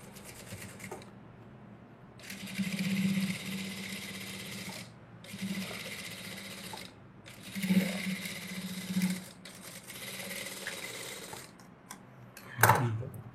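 A sewing machine runs an edge seam on a blouse in several steady bursts separated by short pauses, with a sharp clack near the end.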